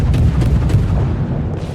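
A torpedo strikes an enemy battleship in World of Warships, giving a heavy rumbling boom with several thudding impacts that rolls on for about two seconds, loud and close, with no talking.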